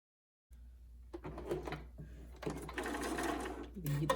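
Sewing machine running steadily while gathering stitches on a sleeve from notch to notch, a close, continuous motor whir with short pauses, and a voice talking over it.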